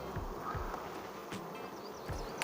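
Honeybees buzz softly at a hive in a low, continuous hum, with faint wing whines drifting in and out close by.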